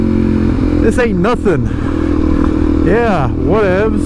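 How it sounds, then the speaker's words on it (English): A Suzuki DRZ400SM supermoto ridden over loose gravel, its engine revving up and down in several surges, with a rider's voice speaking over the engine. "We've learned that the 400SM doesn't care about no loose gravel."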